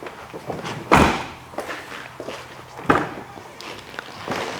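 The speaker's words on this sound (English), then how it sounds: "All the doors open and shut like they're brand new still." Doors on a 1996 Chevrolet Impala SS open and shut, giving two solid thunks about two seconds apart amid softer handling clicks and footsteps nearby, with no talking.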